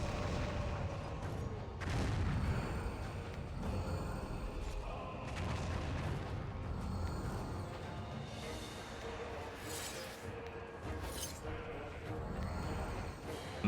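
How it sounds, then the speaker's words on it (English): Cannon fire in the video game Warhammer Online, heavy booms thudding at intervals under a busy, continuous battle din of clashing effects, moderately loud throughout. "Cannon to the face."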